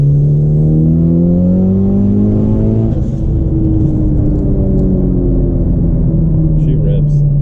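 A Mitsubishi Evo engine revs loud and close, its pitch climbing through a gear, dropping, then rising again under a steady rumble.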